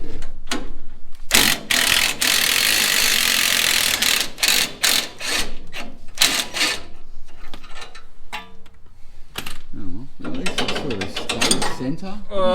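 Stilson wrenches working on a bent tie rod of a 1934 Plymouth rally car, a series of loud metallic clanks, scrapes and ratcheting knocks in irregular bursts, some broad and some sharp, with short quiet gaps between.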